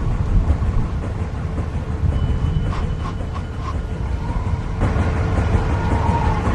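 Stormy wind and rumbling weather in The Walking Dead PC video game, a loud continuous low roar with a faint metallic whine and creaking over it, steady throughout with no voices.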